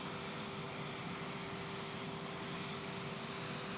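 Air Force One, a jet aircraft, arrives at Palm Beach International Airport with a continuous broad engine roar that stays steady and even and is heard alone without speech.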